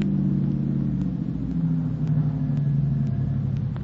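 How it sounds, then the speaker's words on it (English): A car engine rumbles low and steady as the vehicle approaches and drives along a dark street at night, fairly close, with no one speaking. "Might be this car coming."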